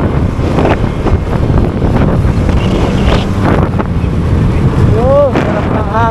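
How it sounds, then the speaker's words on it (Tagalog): Strong wind rushes over the microphone during a long motorcycle ride on a road toward Batangas, a steady loud roar throughout, with a brief whistling tone near the end. "sarap ng hangin"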